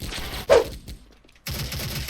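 Bursts of MG36 machine gun fire in the shooter game Special Force, with a loud close burst early on, a brief quiet gap, then sustained rapid firing resuming.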